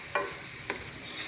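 Native chicken fries in hot oil with garlic, onion and ginger, giving a soft steady sizzle close by, broken by two brief scraping stirs.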